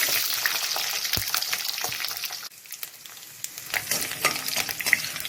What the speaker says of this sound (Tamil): நல்லா பூண்டு எண்ணெயிலே வேகணும்.